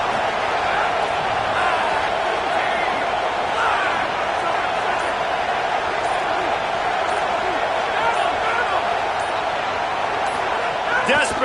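Football stadium crowd roars continuously during a fourth-down play, a dense, loud and unbroken wash of cheering with no distinct voices standing out.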